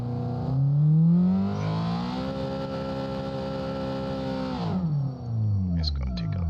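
A Toyota AE86 drag car on nitrous in a video game revs hard and holds a high, buzzing engine note for several seconds during a burnout, then the pitch drops away as the revs fall.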